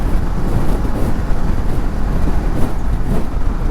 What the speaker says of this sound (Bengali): জানি না ক্যামেরাতে শব্দগুলো শুনতে পাচ্ছেন কিনা, শো শো একটা শব্দ